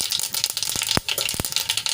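Mustard seeds sputter and pop in hot oil, a steady crackling sizzle broken by a few sharper, louder pops.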